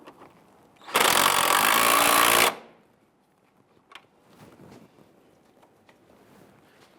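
A power tool tightens the nut on a Jeep Grand Cherokee sway bar end link in one loud, close burst of about one and a half seconds, followed by quiet clinks and handling noises.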